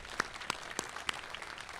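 A few scattered hand claps ring out sparsely, faint and uneven, more like a small group's brief applause than a full ovation.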